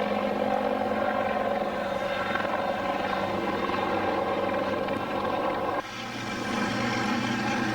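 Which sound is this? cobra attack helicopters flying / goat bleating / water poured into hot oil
cobra attack helicopters flying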